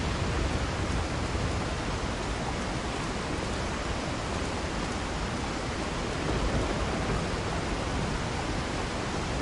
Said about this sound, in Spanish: el río, que como veis baja fuerte